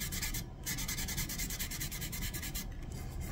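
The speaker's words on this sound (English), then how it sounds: "A little bit of light sanding. This is 600 grit paper." Light wet-look sanding with 600 grit paper on the finish of a damaged Drake Custom six-string bass guitar, a soft, rhythmic hissing rub of quick back-and-forth strokes, close and without speech.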